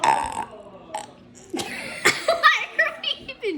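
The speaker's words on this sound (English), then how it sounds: "so this is how much I burped. Burp, burp, burp." Several throaty burps after chugging Coca-Cola, loud and close, coming in short bursts with chuckling and laughter between them.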